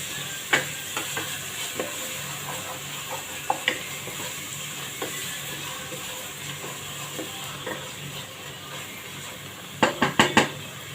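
Ginger and spice masala for taro stolons sautés in oil, a soft sizzle broken by repeated utensil scrapes and stirring knocks, with a cluster of sharper clatters near the end.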